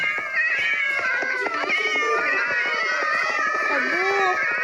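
Cats in the video game Craftsman meow repeatedly in a busy, overlapping chorus of cries that continues for several seconds.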